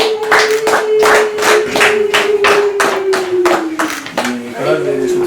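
A gathering of family members clapping in a steady rhythmic beat, loud and close, while a sustained high ululating voice runs over the claps and fades near the end.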